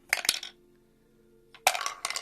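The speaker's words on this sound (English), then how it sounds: "Okay, so we're going to roll the dice." Bone dice clatter onto a surface in two quick bursts of hard rattling clicks, the first settling after half a second, then a second roll tumbling near and loud after a brief pause.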